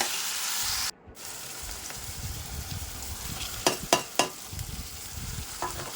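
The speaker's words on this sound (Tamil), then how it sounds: "இப்போ தக்காளி போட்டு வணக்கி எடுத்துக்கலாம்" Tomatoes sautéing in a pan for a bottle gourd gravy give a steady close sizzle, with a brief drop near the start and a few sharp scraping stirs toward the end, no talking.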